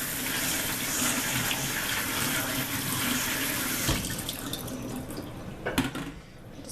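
Potatoes rinsed under a running kitchen tap into a sink, a steady close rush of water with splashing and shifting tone as they are turned under the stream, no speech.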